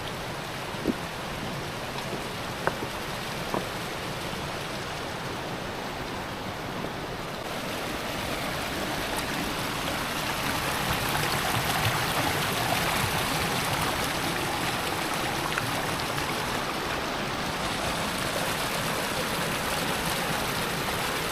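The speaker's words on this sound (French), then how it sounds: "il y a quand même le bruit de la rivière" A river in the Kusatsu onsen town rushes on as a steady broadband wash of flowing water, moderately distant and constant throughout, with no talking.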